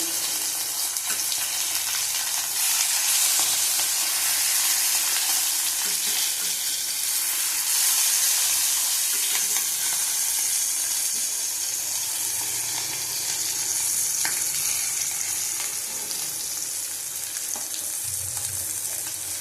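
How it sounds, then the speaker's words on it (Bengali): Pabda fish frying in oil in a pan produce a loud, steady hiss and crackle that persists throughout, with occasional sharper pops and no talking. "দেখো মাছগুলি ভাজা হয়ে গেছে, তুলে নেবো।"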